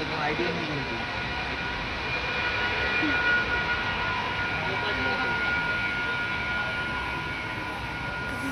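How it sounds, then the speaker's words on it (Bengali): The Kanchankanya Express, a night train, rumbles along in a steady, low continuous roar with a faint whine and rattling, heard from inside a sleeper-class compartment. "ফাইনালি ট্রেন ছাড়লো অ্যারাউন্ড 8:30 PM।"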